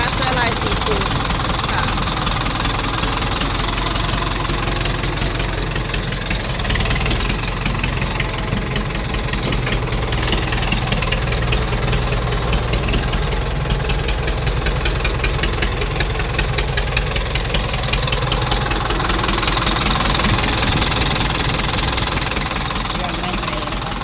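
Ford 7710 four-cylinder tractor engine running steadily, a loud rough knocking rumble throughout, close by, with someone talking over it.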